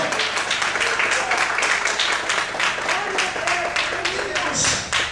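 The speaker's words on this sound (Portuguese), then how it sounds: "Você pode aplaudir o Senhor?" A church congregation applauds during a Sunday morning service, a long, loud, steady patter of many hands with voices mingled in, near and continuous.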